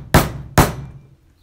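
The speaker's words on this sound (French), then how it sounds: "bah avec mon marteau" Two sharp hammer blows on a picture frame at a framing workbench, close and loud, spaced about half a second apart, each ringing briefly before decaying.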